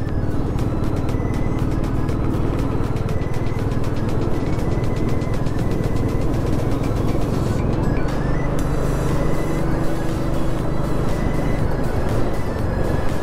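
Heavy trucks crawl slowly along the Kashedi Ghat road in a steady, close, continuous rumble of engines and road noise that runs throughout.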